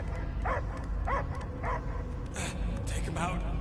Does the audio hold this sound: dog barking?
yes